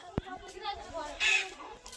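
A chicken gives a few short clucks close by, with a sharp tap at the start and light background noise.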